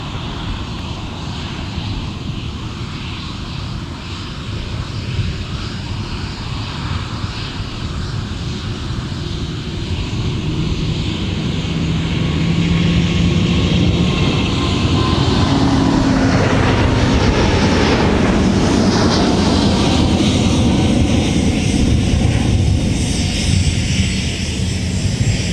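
Delta 160 Heavy, a large jet, begins its takeoff roll at Minneapolis–Saint Paul airport. A loud, broad engine roar builds and swells as the aircraft passes, with a sweeping pitch shift near the peak and no talk.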